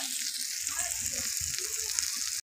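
Rohu fish curry with eggplant and turmeric sizzles steadily in a pan, a continuous close frying hiss broken by soft stirring scrapes, ending abruptly.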